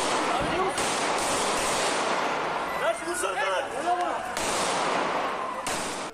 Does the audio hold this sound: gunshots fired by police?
yes